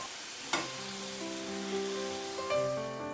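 Puri frying in hot oil gives a steady close sizzle with a few sharp crackles and pops, and no one speaks.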